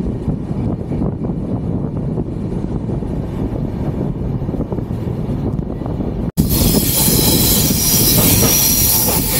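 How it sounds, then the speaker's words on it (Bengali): A train on the Siliguri to Kamakhya line rolls past close by through hilly country, a loud continuous rumble of wheels on track with steady clatter, growing brighter and harsher toward the end. "ওই যে ট্রেন যাচ্ছে"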